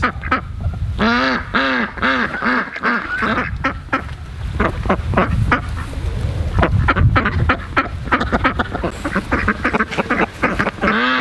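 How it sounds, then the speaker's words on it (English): A small flock of farm ducks quacking nearly continuously, loud and close, with overlapping calls and honking, goose-like notes over a busy outdoor background. "there's our original 4 ducks hanging by themselves"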